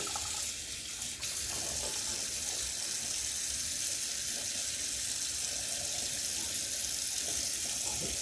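Tap water runs steadily into a kitchen sink, rinsing a small part of an Instant Pot lid, a constant close splashing rush with slight changes as the part moves under the stream.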